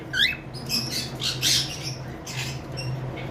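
Cockatiels in a cage, one cream face fallow and one lutino pied, give several sharp, close squawks and chirps over a low background hum.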